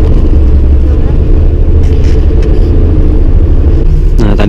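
Taipei city bus number 1815 heading back to the city center, a loud steady low engine rumble heard from inside, with brief rattles and short bursts of background voices.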